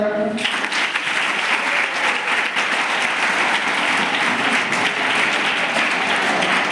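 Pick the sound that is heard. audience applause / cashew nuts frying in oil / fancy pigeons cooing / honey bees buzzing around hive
audience applause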